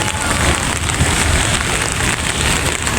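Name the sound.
rain falling at a market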